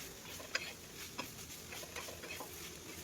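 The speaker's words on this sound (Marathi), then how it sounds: "तर कांदा या पद्धतीने बघा किती छान असा भाजला गेलेला आहे" Onions cooking in a pan for a mixed winter vegetable dish give a faint, soft sizzle with occasional light taps and scrapes of stirring, quiet and close with no voices.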